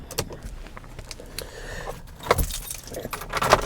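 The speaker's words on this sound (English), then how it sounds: "Start the truck up." Keys jangle and clink several times while a truck is being started, with small clicks and rattles in between and a louder jingle toward the end, close by and without talking.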